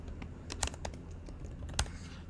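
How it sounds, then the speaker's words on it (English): Computer keyboard typing, with a few scattered key clicks and a couple of sharper taps over a quiet background hum, close and fairly soft. "then start typing"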